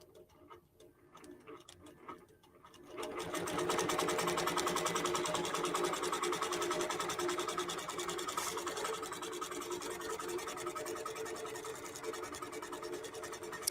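A QBOT quilting robot drives a sewing machine, starting after a few quiet seconds of faint clicks into a fast, steady mechanical stitching rattle that continues evenly at close range.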